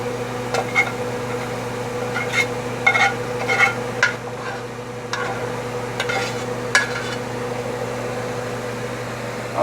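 Shrimp and crab meat dip stirred in a pan on a switched-off stove, giving soft scraping and clicking spoon strokes spread through the clip over a steady hum of a fan or kitchen appliance.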